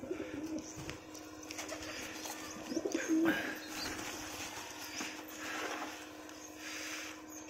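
Pigeons coo softly at close range in repeated low, throaty calls, with a few faint chirps among them in a quiet indoor or rooftop setting.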